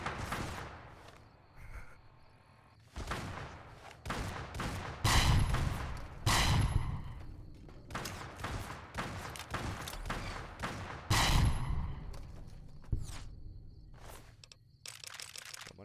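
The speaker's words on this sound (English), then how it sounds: "Someone else is shooting at me." Bursts of gunfire ring out in Fallout New Vegas during the Sierra Madre, sharp repeated shots and volleys coming in irregular clusters, some loud and close, with quieter gaps between them.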